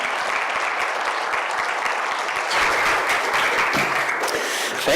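An indoor audience applauds continuously to welcome speaker Ben Jamison, a dense, close wash of clapping that swells slightly louder partway through, with no talk over it.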